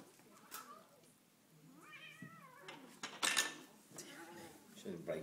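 A cat meows and caterwauls in a drawn-out, wavering yowl at moderate distance, with a sharp clatter like dishes partway through and people talking quietly around it.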